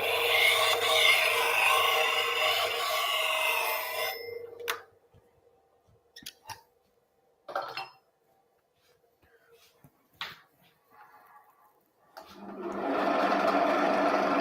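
A steady whirring tone from a wood lathe opens and closes the clip, and between them come quiet gaps broken by brief scraping and tapping from a woodturning tool taking a light bevel-rubbing cut.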